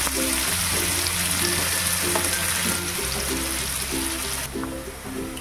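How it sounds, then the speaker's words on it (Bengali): Thinly sliced onions fry in a pan with a loud, continuous sizzle and crackle, with no voices present. "পেঁয়াজটাকে কিন্তু পুরো ভালো করে ভাজবো, যেরকম আমরা ভর্তাতে ভাজি, পেঁয়াজ ভাজি ঠিক সেরকম একদম।"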